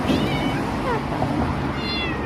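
A cat in Istanbul meows several times, drawn-out rising and falling cries at the start, middle and end, over a steady background noise.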